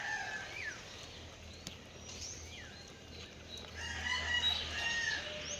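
Chickens cluck and a rooster crows at feeding time in a backyard flock, the calls moderately near over a steady low rumble, with a livelier burst of clucking toward the end.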